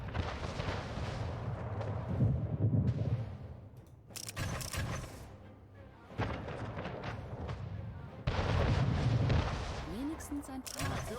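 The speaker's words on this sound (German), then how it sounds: "Schiff unter Beschuss." Ship cannons fire in the Anno 1800 video game, booming blasts and rumbling impacts recurring through the clip amid game sounds, with in-game voices speaking.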